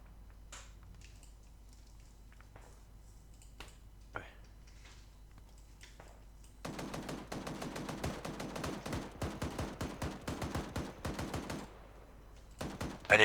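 Sustained automatic gunfire from an in-game machine gun in the military shooter Arma 3, a dense rapid burst of shots lasting several seconds after quieter moments with faint distant shots.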